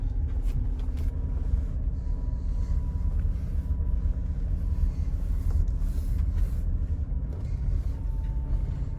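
Mitsubishi ASX crawling with the accelerator floored yet stuck near 5 mph, traction control and ABS fault; a steady low engine and road rumble heard from inside the cabin, no speech.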